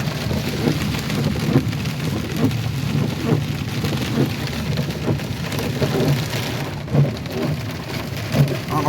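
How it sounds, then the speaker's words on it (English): Heavy night rain pounds steadily on a car, dense and close, with low rolls of thunder rumbling underneath and occasional louder drops or thumps, no voices present. "even in the pouring rain"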